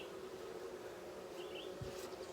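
Bees buzz around an opened hive, a faint, steady drone with a brief higher buzz passing close, and a soft thump of the hive box being handled.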